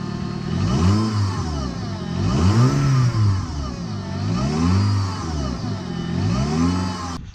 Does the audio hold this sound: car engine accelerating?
yes